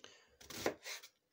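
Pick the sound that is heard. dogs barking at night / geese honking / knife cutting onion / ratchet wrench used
knife cutting onion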